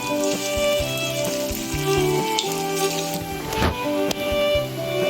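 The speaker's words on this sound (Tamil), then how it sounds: "இந்த காலிஃப்ளவர் எடுத்து இப்படி போடணுங்க எண்ணெயில் பொறிக்கணும்" Steady, loud sizzling and crackling of cauliflower frying in hot oil for gobi manchurian, close up, with occasional pops and a faint stir.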